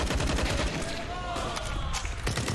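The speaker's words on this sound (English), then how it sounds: "Oh, first kill, second kill for Boomich." Gunfire in a Counter-Strike match, a rapid burst of overlapping shots and crackling fusillade against busy game noise, with a voice talking underneath.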